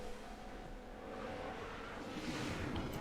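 F1 cars passing during an overtake in the F1 Manager 2024 game at Bahrain, a steady engine drone that rises and thickens as cars sweep by, fairly faint throughout.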